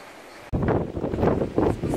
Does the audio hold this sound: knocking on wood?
no